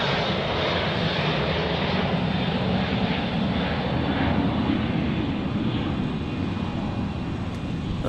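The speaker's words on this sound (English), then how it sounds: "Little Cessna jet there" Small Cessna jet roars steadily past an airport runway area during rainy stormy weather, a loud continuous engine rush that holds level and sounds close.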